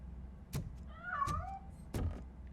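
A cat meows once in RoboCop Rogue City, a short rising-and-falling cry in the middle, set between two soft thuds and over a low game ambience.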